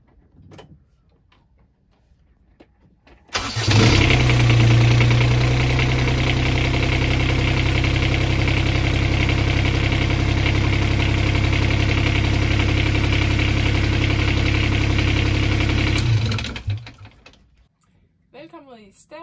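An Albin marine engine aboard an Albin Ballad sailboat starts up after a quiet lead-in, then runs at a steady, loud, close idle with a deep rumbling thrum for about twelve seconds before shutting off.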